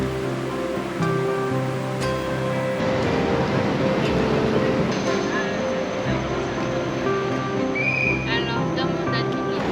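Kuala Lumpur metro train riding along, a steady rumbling hum with tonal motor whine and a rising electric pitch partway through, carrying on continuously throughout.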